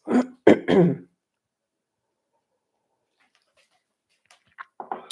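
A short, harsh throat clearing in two or three rough bursts, then near silence, with a few faint sounds at the end.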